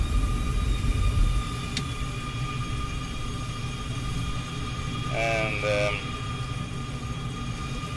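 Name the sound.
F-14 Tomcat engine number 2 starting in Microsoft Flight Simulator video game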